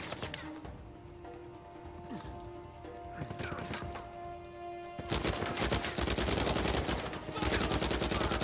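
A big gun firing in Uncharted 4, starting around the midpoint as a loud rapid automatic stream of shots, after quieter game ambience with a steady hum and scattered sounds.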